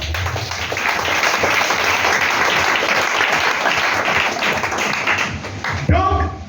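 A church congregation applauds the Lord with sustained, dense clapping, loud and full throughout, carried under an amplified voice and tapering off near the end.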